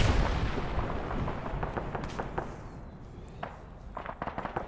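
Artillery and mortar fire in the video game Arma 3, a dense rumbling barrage with repeated booms and sharp blasts, some near and some distant, continuous throughout.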